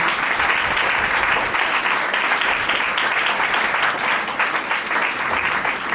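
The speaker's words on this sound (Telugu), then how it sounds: "అందరూ చప్పట్లు కొట్టడం ఒకసారి" Church congregation clapping together during Sunday worship, a dense, sustained round of applause that fills the space evenly and loudly throughout, with no voices on top.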